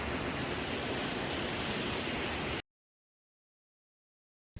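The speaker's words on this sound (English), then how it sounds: "It's a small waterfall, but there is no people." A small waterfall in Iceland pours as a steady broadband rush from fairly near, then cuts off abruptly into silence.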